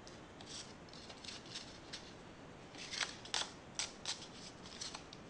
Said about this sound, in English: Trim off my excess.